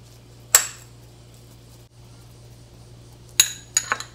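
Utensils clinking against a dish while kawara-soba is mixed with shichimi pepper, one sharp clink, a quiet pause, then a few quick clinks close by over a low steady hum.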